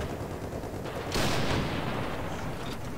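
A single heavy tank cannon blast in the War Thunder video game, with the B1 Ter tank mentioned, booms out over a constant engine rumble and then decays in a rolling tail, with no talk.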